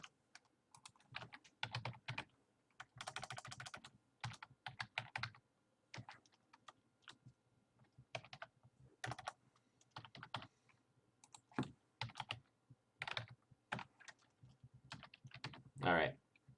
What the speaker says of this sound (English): I'm going to type in some incorrect answers here